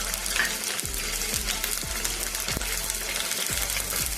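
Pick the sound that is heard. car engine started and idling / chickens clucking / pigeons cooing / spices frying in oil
spices frying in oil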